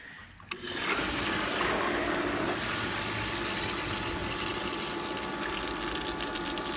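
A swimming pool pump runs steadily on its filter setting, water rushing through it in a continuous, fairly loud broadband hum that starts abruptly and holds without pause, no voices present.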